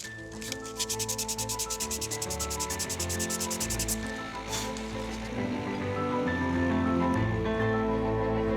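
Broken pieces being cleaned off at a repair workshop, a steady rubbing, sanding scrape with rapid rhythmic strokes early on, then continuous close scrubbing over low background noise.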